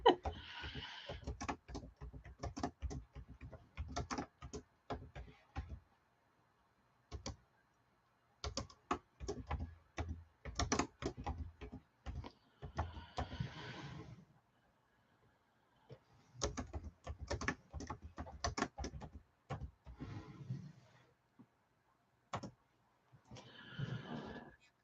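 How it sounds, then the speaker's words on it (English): Bursts of computer keyboard typing with irregular clicking rhythm, moderately close, broken by short pauses; occasional faint voice in the background. "Oh, I'm typing and it's not going anywhere."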